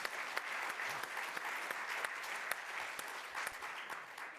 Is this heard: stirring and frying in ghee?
no